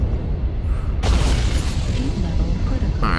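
Heavy autocannon fire from a UAC 10 in MechWarrior Online, a loud booming burst that breaks in sharply after a quieter stretch and rumbles on, with a second report near the end.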